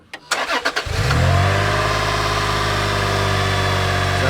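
A car engine cranks with a few quick starter bursts, then catches and settles into a steady, loud idle after repair work, running close by with no talk.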